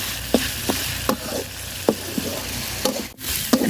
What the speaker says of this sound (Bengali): তো মশলাটা আমি সুন্দর করে তেলের সাথে বাজিয়ে নিছি